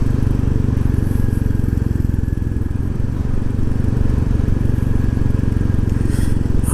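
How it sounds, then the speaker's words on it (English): A Royal Enfield Classic 350 motorcycle on a ride engine-brakes with the throttle closed, its single-cylinder exhaust thumping and popping in a steady rapid rhythm, loud and close alongside wind rush. "just hear that exhaust pop when I've got the throttle closed using engine braking"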